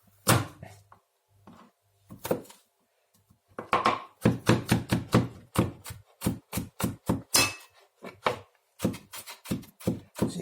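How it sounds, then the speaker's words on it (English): Garlic cloves crushed and then chopped on a board: a few isolated heavy thunks first, then a quick run of sharp, rhythmic knife chops up close, pausing briefly before more bursts, with no one speaking. "So I've got some nice garlic cloves here, and I'm going to crush these and chop them finely."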